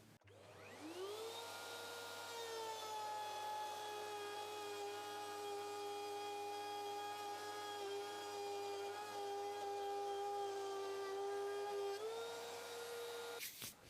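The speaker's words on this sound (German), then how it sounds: "dieselben 6 mm auf der anderen Seite unten auch nochmal fräse mit geschlossener Klappe am Ende vom Frästisch" On a router table, a 6 mm groove is milled into a wooden board: the motor spools up to a steady high whine, holds an even tone for about twelve seconds, then drops off, heard alone at moderate level.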